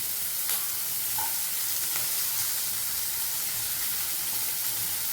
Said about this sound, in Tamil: அப்போ இந்த காய்கறியும் எல்லாம் போட்டுருவோம். ஒன்றுன்னா காய்கறியும் எல்லாம் வதங்கட்டும்.